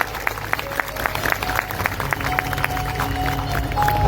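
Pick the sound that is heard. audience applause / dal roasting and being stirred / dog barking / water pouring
audience applause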